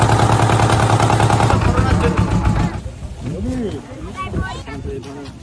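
A boat engine chugs loudly while crossing a wide river on the way to Mousuni Island, a dense rapid rattling that drops away after about three seconds, leaving quieter water and background noise.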